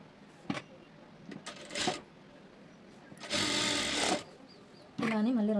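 Sewing machine stitching the lining of a blouse, with short bursts of mechanical whirring separated by pauses, one longer louder run, and a final sustained stretch with a rising whine.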